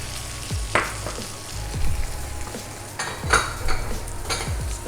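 Eggs frying in a pan, a steady close sizzle broken by repeated scraping and clinking strokes of a utensil stirring them, with no talk over it.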